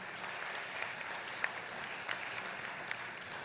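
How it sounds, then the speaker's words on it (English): Steady applause from a conference audience fills the room, a dense even patter of many hands clapping with a few sharper claps, no voices over it. "Maybe a round of applause for our district PR team."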